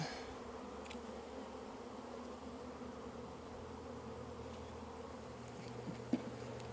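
Honeybees at an open hive during a mite-wash inspection make a low, steady buzz that runs faint and continuous throughout, with a soft knock near the end and no voices.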